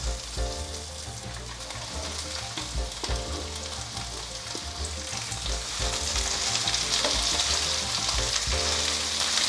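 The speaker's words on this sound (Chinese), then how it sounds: "甜椒放进来，略炒一下" Bell peppers are stir-fried in a wok with zucchini and baby corn, giving a continuous loud sizzle with tossing and scraping that grows slightly louder toward the end, close by and without speech.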